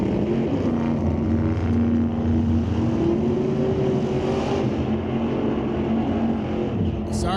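A first-generation Corvette Roadster and an '86 Daytona launch side by side at an NHRA Canadian drag-racing event, a loud sustained engine roar with rising pitch as they accelerate away down the strip. Faint talk sits beneath the noise.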